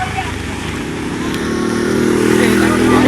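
A two-wheeler motorcycle engine drones steadily nearby on a road after heavy rain, its hum building louder through the clip, with voices faintly under it.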